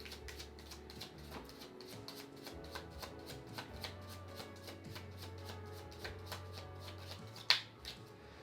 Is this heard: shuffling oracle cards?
yes